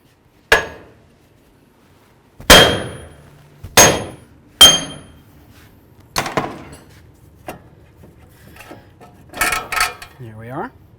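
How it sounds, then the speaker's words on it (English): A big hammer strikes a front wheel hub on a 2008–2018 Chrysler Town & Country, ringing with several loud, sharp metallic bonks spaced a second or so apart, followed by lighter clanks, and someone talks briefly between them. "we're going to take our big old hammer and we're going to give this a couple loving bonks"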